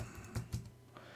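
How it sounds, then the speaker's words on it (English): Quiet keystrokes on a computer keyboard, a few light irregular clicks with two slightly firmer taps, close and soft with no speech. "So I'll start typing in previous."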